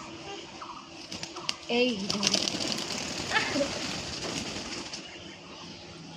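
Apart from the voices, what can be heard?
pet pigeons cooing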